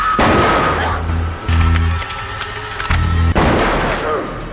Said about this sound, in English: The gunshot awakens the horde.